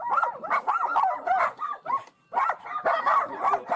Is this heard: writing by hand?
no